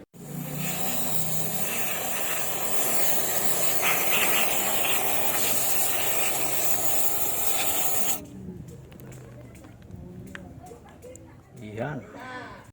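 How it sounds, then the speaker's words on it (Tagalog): Marsh brake and parts cleaner aerosol sprayed in one long, loud, steady hiss that cuts off sharply, then quiet handling sounds and someone talking. "sprayan nyo lang tapos ayan, matatanggal na yung mga tirang langis or ano, natuyong langis"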